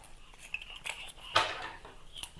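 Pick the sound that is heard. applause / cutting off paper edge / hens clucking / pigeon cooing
cutting off paper edge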